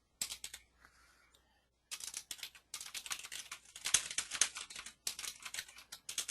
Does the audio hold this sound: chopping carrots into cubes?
no